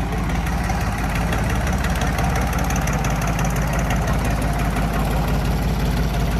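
A modified Ford 7600 tractor idles nearby, a loud, steady low engine rumble with a fine knocking pulse running evenly throughout.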